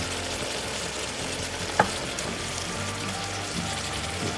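Shrimp sizzling on a barbecue grill as they are flipped, a steady crackling fry hiss with one sharp click from the flip in the middle.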